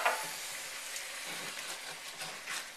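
Wine hits a hot pan to deglaze it, a dense, even hiss of steam and sizzle that holds steady with faint bubbling pulses throughout.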